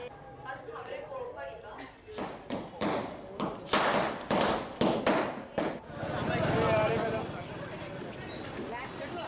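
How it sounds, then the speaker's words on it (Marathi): Firecrackers burst outside a politician's house in Dhule as party workers celebrate his cabinet appointment. A series of sharp, close bangs comes in quick succession, followed by rumbling noise, with a voice talking over the scene. "भामरेंच्या घराबाहेर कार्यकर्त्यांनी फटाके फोडून आणि पेढे वाटून एकच जल्लोष केला।"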